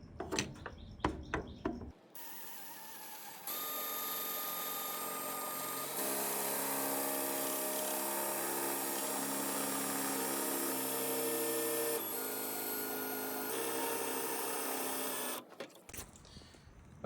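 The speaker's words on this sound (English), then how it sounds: "Gonna drill right here." A power drill bores into the electronic steering lock of a 2009 Mercedes C63 AMG, a steady loud whine running about fourteen seconds with slight shifts in pitch, bracketed by brief clicks and handling noises.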